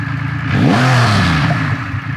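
Triumph Rocket 2500cc muscle motorcycle with stock exhaust starting and revving up, a deep, loud rumbling engine that climbs in pitch then settles back to a steady throbbing idle, close by with no talking.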